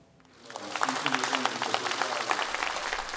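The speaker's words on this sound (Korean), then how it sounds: "미래통합당 의원들이 열흘 만에 국회로 돌아온 주호영 원내대표를 박수로 재신임합니다" Members of the United Future Party in the National Assembly applaud their floor leader on his return after ten days. Steady, close applause starts within half a second and continues under a voice talking over it.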